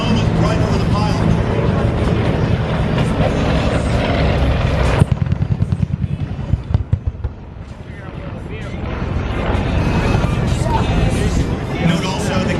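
Bell UH-1 Huey helicopter flying at an air force base air show, its loud rotor chop and turbine roar filling the air, dipping briefly before building again, with crowd babble and a commentator's voice over it.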